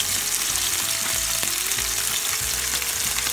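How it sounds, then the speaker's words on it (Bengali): Koi fish frying hard in hot oil for a curry, a steady loud sizzle with the occasional stir or scrape of a utensil throughout, no voices. "ভাজা হচ্ছে মাছ"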